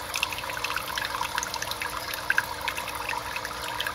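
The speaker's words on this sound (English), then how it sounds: "It generally trickles in like that while it's pumping, which it is now." Water from storage barrels above trickling into a greenhouse while the pump runs, a steady close hiss of running water with small drips and splashes on top.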